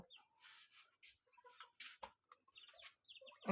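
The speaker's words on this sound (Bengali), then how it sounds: "এই যে দেখুন কোয়েল পাখি দুটি" Two pet quail birds making brief chirps and soft calls in short separate bursts with quiet gaps between them, close by in a quiet room.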